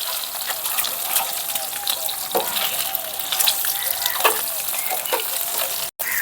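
Eggs fry and are stirred in a pan for Hyderabadi-style egg biryani, a steady loud sizzle with hissy crackle and occasional scraping clinks, close up, throughout.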